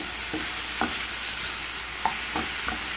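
Chicken wings frying with tomato and chili for a potato balado, with a steady background sizzle broken by several sharp scraping clicks as a spatula stirs the pan, close up with no talking.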